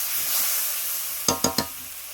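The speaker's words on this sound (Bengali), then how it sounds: "এটাও দিয়ে দেবো, দিয়ে মশলার সঙ্গে ভালো করে কষে নেবো।" Spice paste sautéing in oil with a katla fish head for a murighonto curry: a steady soft sizzle and hiss, broken near the end by three quick scraping stirs close by.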